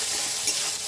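Tomato, turmeric, chilli powder and chopped green chillies fry in a hot kadai, giving a steady, loud, close hiss of sizzling oil with no voices.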